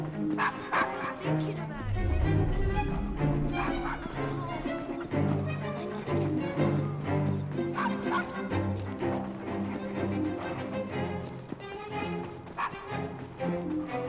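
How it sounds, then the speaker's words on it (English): A dog in Assassin's Creed Syndicate barks and yips amid dense game background sound and music, the calls fairly near and repeated across the scene. "Nice doggy."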